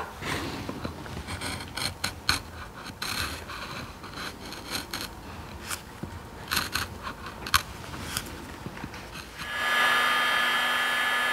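Hair dryer blowing steadily near the end to soften the edge inlay of an electric guitar during hand building in a luthier's workshop, a continuous whooshing hum that follows a stretch of scattered clicking and handling noises.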